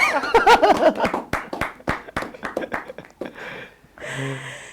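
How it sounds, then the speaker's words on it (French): A small group at a gospel music event claps scattered, uneven hands nearby, amid laughter and chatter, before the clapping dies away and a tone takes over. "on applaudit quand même"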